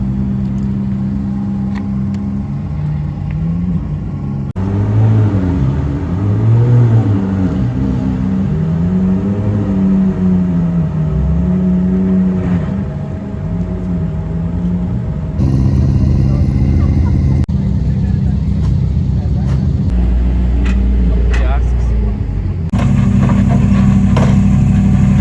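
Cars rolling into a parking lot for a Cars and Coffee meet in SoCal, engines idling and revving close by in several distinct passes, with talk over parts of it.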